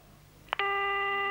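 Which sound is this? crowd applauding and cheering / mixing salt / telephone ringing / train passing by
telephone ringing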